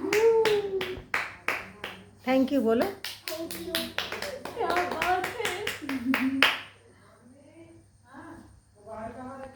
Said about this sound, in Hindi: ताली बजाओ ताली